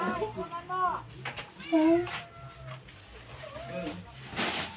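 A cat meows a few times up close while people talk over it.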